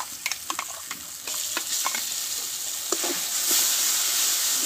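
Bean (shim) paste with ginger and green chili frying in a pan for a vegetarian chop, a steady close sizzle broken by repeated scraping strokes of a spatula, the sizzle growing denser toward the end.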